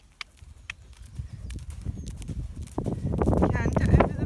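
A horse canters over a pole during freeschooling, its hoofbeats thudding in a rhythmic clip-clop that grows louder and closer, with a person talking over it.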